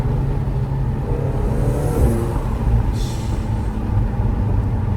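A McLaren 720S sports car driving at night, heard from inside the cabin as a steady low engine drone and road rumble, with a brief whoosh of higher noise partway through.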